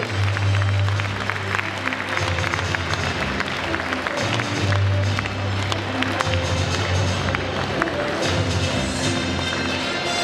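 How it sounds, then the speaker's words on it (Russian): Sustained applause from a crowd at a student spring festival gala concert, steady and dense clapping filling the whole stretch with a low hum underneath. "Давайте аплодисментами проводим членов жюри."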